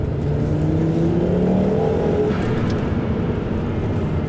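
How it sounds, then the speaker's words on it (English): A Volvo 850 Turbo five-cylinder engine revs loudly through its stock exhaust, a deep throaty roar rising in pitch then holding steady, close by. "Stock Volvo makes this sound, or not completely stock, but the exhaust is stock."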